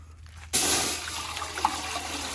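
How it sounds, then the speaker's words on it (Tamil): Water pours into a cooking pot being filled with about five litres for an outdoor wood stove, a steady loud rushing splash that starts abruptly and continues close by, with no talk. "போதும், 5 லிட்டர் தண்ணி ஊத்தியாச்சு."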